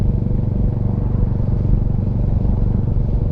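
Royal Enfield Hunter 350 engine lugs at low revs in a high gear, a loud, steady, low-pitched thumping drone with close, continuous putter and no talking.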